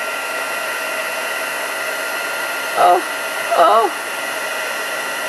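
A heat gun blows steadily as it melts embossing powder, a constant close hiss and whir running through the whole stretch, with a brief voice exclamation heard over it near the end.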